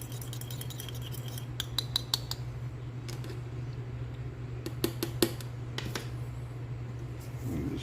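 Paint for repainting fishing lures gets a quick mix in a small container, heard as a few light clicking, tapping strokes in short clusters over a low hum.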